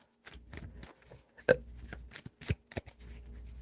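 A deck of tarot cards is shuffled by hand at close range. It makes quick riffling flutters and soft taps in a few separate bursts.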